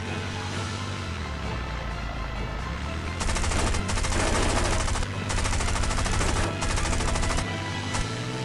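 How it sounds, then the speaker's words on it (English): Rapid machine-gun fire in the mobile air-combat game War Wings, shooting at tanks, rattles in dense sustained bursts over a low engine drone, growing louder midway with brief gaps between volleys. "I shoot tanks"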